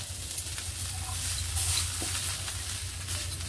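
Chopped onion dry-roasting in a pan until reddish, a steady soft sizzling hiss with faint stirring scrapes, continuous and close for the whole stretch.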